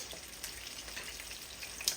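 Fish fries in a pan for a country-style Sunday dinner, giving a quiet, steady crackling sizzle with occasional small pops and no talk.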